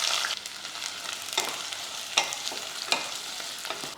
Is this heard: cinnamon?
yes